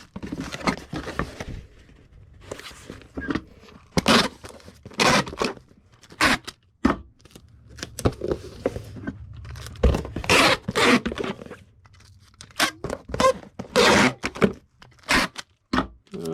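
Tape being pulled and pressed onto a folded shipping package with bubble wrap inside makes a run of sharp rips, crinkles and scrapes in quick bursts, close by and with pauses between.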